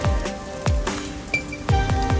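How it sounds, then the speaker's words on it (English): Rain falling in a city in the video game Rain Code: scattered crisp drops and plinks over a soft hiss, with a few sharper impacts among them. "isn't it weird how it's not flooded, given how it's always raining here?"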